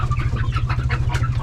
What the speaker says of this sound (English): they're starting to hop back through with the rest of the birds